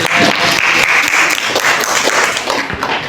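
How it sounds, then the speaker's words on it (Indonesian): A classroom group gives a round of applause for the second presenting team in a teacher-training session, dense clapping from many hands, loud and close, with faint crowd murmur and occasional thumps beneath. "Berikan tepuk tangan untuk kelompok 2."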